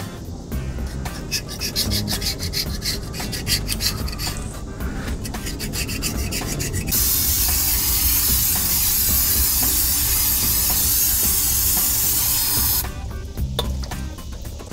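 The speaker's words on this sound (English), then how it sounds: "go ahead and get the rest of this gasket material scraped off." Steady scraping and rubbing of old gasket material off the mating surface of a Dana 44 rear differential housing, continuous and close for the whole stretch, with a harsher rasping stretch in the middle.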